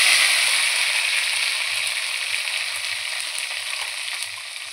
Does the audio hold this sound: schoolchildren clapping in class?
no